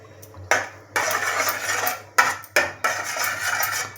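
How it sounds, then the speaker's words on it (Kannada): Metal spoon clanking against a kadai while ghee is added, four or five distinct sharp scrapes and knocks, close and clear with no talk. "ಒಂದು 3 ಸ್ಪೂನ್ ತುಪ್ಪ ಹಾಕ್ಕೊಳ್ಳೋಣ."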